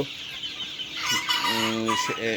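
Chickens cluck in a sand-litter poultry house of 43-day-old birds, a busy flock with overlapping calls that rise into a louder, harmonic squawk or crow near the end, heard close without talk.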